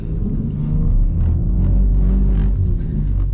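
A 2024 BMW M4 Competition xDrive spins donuts on a skid pad, its engine a loud, steady low rumble with a continuous roar heard from inside the cabin.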